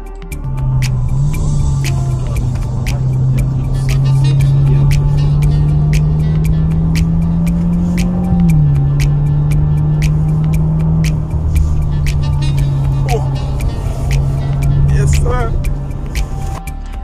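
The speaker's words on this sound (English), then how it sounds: "Here's how the car sounds" Race car engine at the Kyalami Grand Prix Circuit, a loud steady drone close by that holds a sustained pitch, dips briefly midway and then carries on alongside faint background noise.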